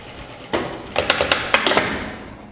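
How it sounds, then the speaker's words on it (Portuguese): Sewing machine stitching back and forth over overlapped elastic in a home garment-sewing lesson, a short whirring run followed by several quick bursts of stitching, close and clear with no talk. "E aqui, costurar várias vezes."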